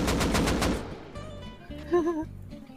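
A rapid burst of about six automatic gunshots in the video game Rust, loud and sharp, followed by quieter tonal game sounds and a brief voice.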